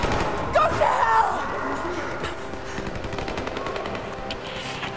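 Automatic gunfire from the Rise of the Tomb Raider video game, a loud burst of rapid shots early on that fades into scattered, softer reports beneath game voices and ambient noise.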